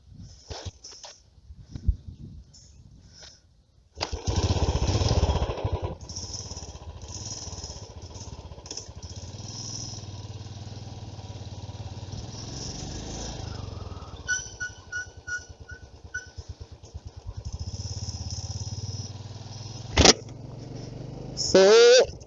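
Second-hand 2018 model motorcycle starting up, with a sharp burst as the engine catches, then a steady running idle with occasional revs and small rattles, under someone talking.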